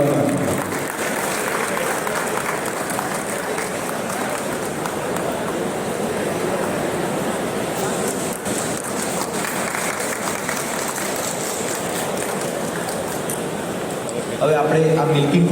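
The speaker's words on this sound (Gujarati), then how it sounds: "તાળીઓ થઈ જાય આ ડેરી ફાર્મમાં." Sustained applause from a crowd gathered at a dairy farm prize ceremony for a Gir cattle milking competition, steady and dense throughout with no voices in the foreground, ending in a brief louder burst.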